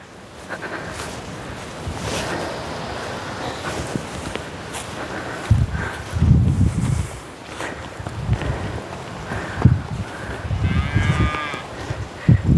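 Cattle moo several times, low and drawn out, with some calls close and others farther off, over a steady outdoor wind-like background on a Sikkim hillside.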